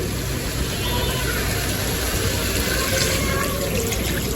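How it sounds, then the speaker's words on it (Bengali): Water pours into an eggplant curry cooking in a pan, a loud, constant rushing splash that holds steady and close the whole time, with no talking. "এখন কিন্তু আমি পরিমাণ মতো জল দিয়ে দিব"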